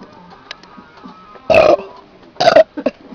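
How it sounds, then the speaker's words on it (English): Two loud, close burps after eating beef stroganoff, one long and one shorter with a small trailing gurgle, over quiet background. "Oh, I burped up some stuff."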